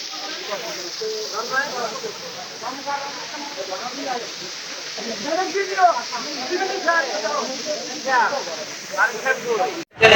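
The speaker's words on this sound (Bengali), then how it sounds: "আমি এখন আছি হিমসুরিতে আর এই যে হিমসুরিতে একটা ঝর্ণা আছে এই যে ঝর্ণাটা" A waterfall at Himchori in Cox's Bazar, among hills near the sea, makes a steady rushing hiss beneath continuous close talking.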